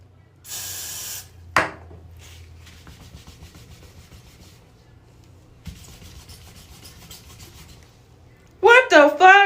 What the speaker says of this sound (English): This is called the power of hairspray.